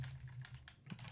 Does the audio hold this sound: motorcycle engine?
no